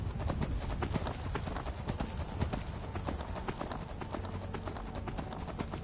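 Hooves of a swift horse ridden across terrain in Skyrim clatter in a fast, steady galloping rhythm, loud and close throughout, with no one talking.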